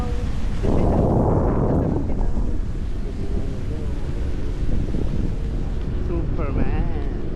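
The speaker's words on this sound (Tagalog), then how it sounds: "Ay, lakas ang hangin." Strong wind buffets the microphone while parasailing, with a loud, continuous roar, briefly surging early on; a faint voice is barely audible beneath it.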